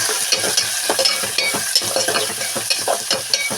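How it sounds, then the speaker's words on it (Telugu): Onion pieces sizzling in a frying pan while a utensil stirs them, giving a steady frying hiss broken by repeated scraping strokes, close and clear with no talking. "ఉల్లిపాయ ముక్కలు వేసాం కదండి ఇవి ఇలా కలుపుకోవాలన్నమాట"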